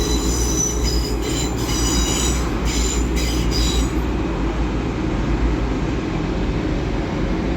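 Two coupled Class 185 units, 185 101 and 185 129, pull out of Doncaster station on the East Coast Main Line bound for Cleethorpes. A loud, continuous rumble of wheels on rail carries high metallic squeals that fade after a few seconds.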